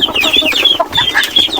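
Native chickens cluck busily while feeding, close and fairly loud, with overlapping short clucks and chirpy calls coming in quick, irregular bursts, and no talking.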